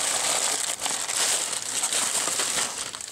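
Plastic packaging from AliExpress parcels crinkles and rustles continuously up close during unpacking, a steady dense crackle with no speech.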